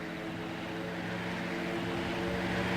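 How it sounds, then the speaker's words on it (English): A propeller airplane drones steadily overhead in the survival game Rust, a continuous faint engine hum with no talk over it. "Sounds suspiciously like a plane."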